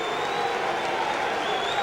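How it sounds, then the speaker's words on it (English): A stadium crowd at a 1994 rugby league fixture, Huddersfield against Keighley Cougars, applauds steadily as the Cougars take the field. The clapping forms a continuous, even wash of moderate loudness with no clear break. "the rapturous applause rings round this stadium as the Cougars take the field"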